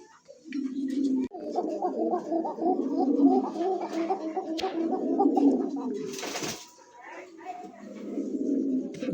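Fancy domestic pigeons coo in deep, gargling bursts close by, almost without a break. A sharp click interrupts them, and then the cooing resumes after a short pause.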